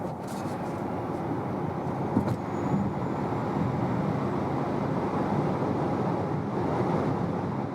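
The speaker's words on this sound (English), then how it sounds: "So I'll put to 80 kilometers an hour and accelerate it out to 150." Hyundai Ioniq 5 AWD electric car accelerating hard on a German autobahn from 80 to 150 km/h, heard from inside as a steady, even rush of wind and road roar with no engine note.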